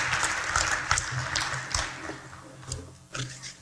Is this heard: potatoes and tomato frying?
no